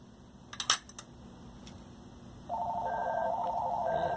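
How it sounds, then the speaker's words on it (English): Telephone ringing in a workshop during a repair of a 1970s Sony Trinitron KV-1942R color TV: a steady electronic ring starts partway through and continues, after a few small clicks and quiet room hum. "In come the phone calls"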